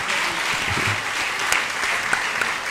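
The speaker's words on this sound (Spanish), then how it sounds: "Un aplauso a tránsito porque la verdad que nos cuidaron muy bien" An audience claps for the traffic police at a government morning press conference in Altamira, a steady, dense wash of applause filling the clip without pause.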